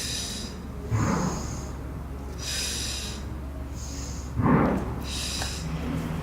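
Heavy, forceful breaths during an overhead squat home workout, two strong snorting exhales about three seconds apart with hissing inhales between, close and loud with no talking.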